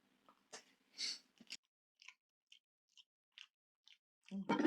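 Close, quiet chewing on a dried tapioca biryani mix, with a handful of soft crunchy bites spaced apart and a louder burst of mouth noise at the end.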